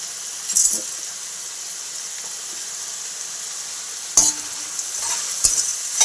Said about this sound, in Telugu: చూడండి ఇలా కలుపుకోవాలి మొత్తం ఇట్లా కలిసేటట్టు కలుపుకొని